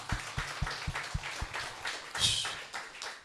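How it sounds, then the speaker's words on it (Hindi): Audience clapping at a church meeting in Goa, starting as a few evenly spaced, rhythmic claps and swelling into a brief, brighter burst of applause, fairly quiet overall. "यस, कम ऑन, तालियां"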